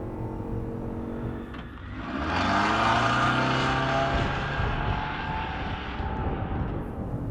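A 2024 Ford Escape plug-in hybrid pulls away from a brake-boosted launch at full power, its engine note building into a loud, sustained rising drone that swells midway and holds steady to the end.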